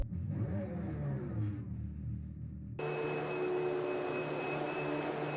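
A car engine note revs and hums, then abruptly switches to a smoother, whining synthetic engine tone from a soundbox, with a steady high pitch, both at moderate volume.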